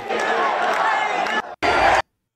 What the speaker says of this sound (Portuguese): Javier Milei en el balcón de la Real Casa de Correos, abucheado y aplaudido